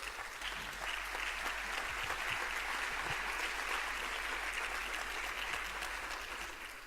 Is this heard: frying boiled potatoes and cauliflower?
no